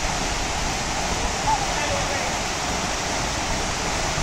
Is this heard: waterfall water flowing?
yes